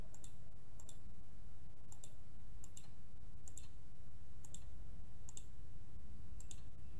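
Computer mouse clicks while a logo is drawn in Illustrator, sharp light clicks landing about twice a second in an irregular run over a low steady background hum, with no talking.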